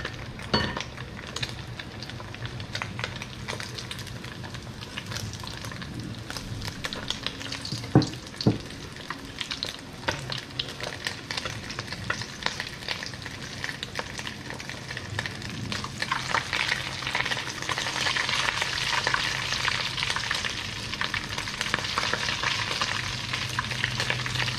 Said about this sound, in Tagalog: prituhin lang natin to